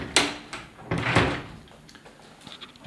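A cupboard or wardrobe door in an empty room being opened, giving a few sharp clicks and a brief wooden knock and rattle, close and moderately loud.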